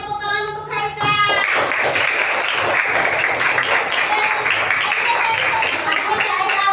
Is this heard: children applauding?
yes